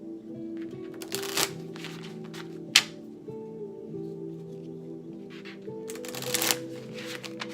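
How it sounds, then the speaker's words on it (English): An oracle card deck shuffled a few times, soft papery riffles and rustles in scattered bursts with a sharp card snap, over a quiet room hum with no talk. "Okay, Coben, let me go ahead and shuffle the deck a few times for you"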